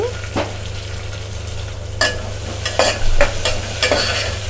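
Onions and dried red chillies fry in a pan with a continuous sizzle, broken by several sharp scraping stirs of a spoon against the pan. The sound is close and has no voices over it.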